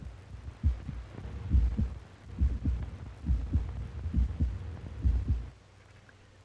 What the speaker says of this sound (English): Now we actually hear one heart sound as the ventricles contract, and a second when they relax and the exit valves snap shut.